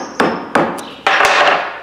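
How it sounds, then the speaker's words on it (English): A hammer gives a few soft taps to the rubber wiper seal on a KTM motorcycle fork during seal replacement: three distinct close metallic knocks, the last ringing a little longer, with no talking. "I had to take a hammer and just kind of give her a few soft taps."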